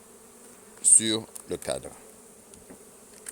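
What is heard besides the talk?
honey bees buzzing around hive frame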